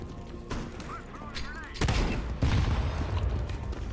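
Gunfire in Counter-Strike 2, a few loud overlapping shots and bursts mixed with game noise and a brief honk-like tone, with voices chatting over the action.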